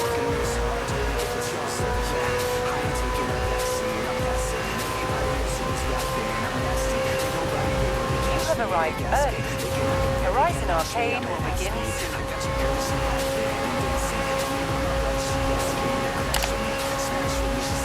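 A McLaren 765LT sports car with a seven-speed gearbox drives at speed, its engine a steady, loud drone with shifting tones. Someone talks over it.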